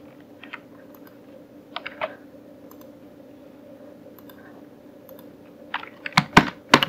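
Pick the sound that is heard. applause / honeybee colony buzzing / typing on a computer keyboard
typing on a computer keyboard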